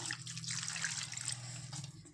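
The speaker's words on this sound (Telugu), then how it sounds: "ఇందులో కొన్ని వాటర్ యాడ్ చేసుకుందాం" A steady stream of water pours and splashes into Mysore bonda batter for about two seconds, close by, with no voices.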